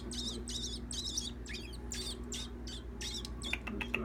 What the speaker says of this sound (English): It's a starving bird.